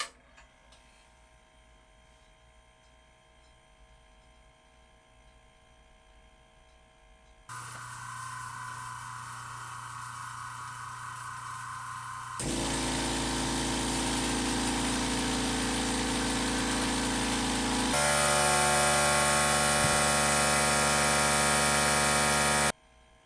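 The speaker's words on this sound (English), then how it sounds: "I'll play these compressor audio clips again here, just so you could hear them one more time, starting from the quietest to the loudest" Four airbrush air compressors run one after another, each a steady motor hum with whirring tones, stepping from a faint quiet unit to progressively louder, harsher ones with abrupt changes between them and no talk.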